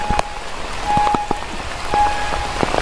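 Steady rain falls on a surface beside a stream during trap fishing, with a dense patter and scattered louder drops close by throughout, and no talking.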